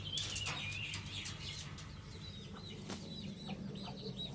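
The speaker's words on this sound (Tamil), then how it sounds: "கிண்ணிக்கோழி பார்த்தீங்களா" Guinea fowl clucking and calling in a flock returning to roost, with short chirpy cries and some wing flapping over a steady low rumble of background noise.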